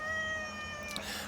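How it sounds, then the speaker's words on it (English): A cat meows nearby, a single drawn-out tonal call over a quiet steady background. "I've got a crazy cat coming up here."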